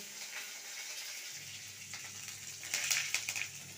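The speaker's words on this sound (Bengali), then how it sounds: "এই যে তেলের ওপর শুকনো লঙ্কা আর সর্ষে দিয়ে দিয়েছি" Dried red chillies and mustard seeds sizzling in hot oil, a soft crackling hiss that grows busier and louder toward the end with scattered sharp pops.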